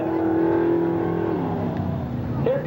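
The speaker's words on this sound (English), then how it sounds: "Here comes our leader, number 1802, the big yellow truck of Mike Oberg from Eagle River" Number 1802, Mike Oberg's big yellow racing truck from Eagle River, Wisconsin, competing in the 1997 Crandon off-road race, roars loud and close with a sustained engine note that drops in pitch and then revs up again at the end.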